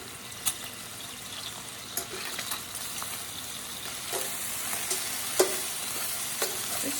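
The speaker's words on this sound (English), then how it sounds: "So let me throw all this bacon in the pan" Bacon frying in a pan on the stove, a steady close sizzle with occasional sharp pops and light scraping as the strips are turned, with no talk over it.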